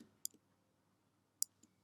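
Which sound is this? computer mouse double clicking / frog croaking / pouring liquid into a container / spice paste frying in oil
computer mouse double clicking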